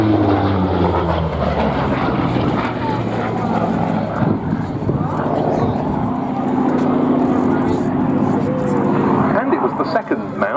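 A Grumman Bearcat propeller fighter flies past at the Duxford airshow, its steady engine drone filling the air at moderate distance while crowd noise and a commentator's voice carry underneath throughout.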